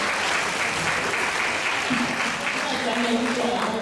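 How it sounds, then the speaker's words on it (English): At an anti-bullying summit in a high school, the audience applauds the panelists with a thick, continuous wash of clapping while a voice speaks faintly underneath. "Round of applause for our panelists."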